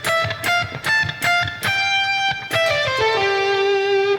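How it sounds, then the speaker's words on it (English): An electric guitar plays a harmonized lick on the first string from a solo, struck notes with a distorted tone, several quick attacks and then one long sustained chord, close and clear. "switch to the first string and play this lick that has a harmony on it"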